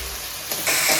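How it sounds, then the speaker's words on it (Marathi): Sabudana (tapioca pearls) sautéing in a pan for potato ragda: a steady hiss of sizzling frying that swells louder partway through as the pearls are stirred. "साबुदाणा पण 1 मिनिटभर परतून घ्यायचा"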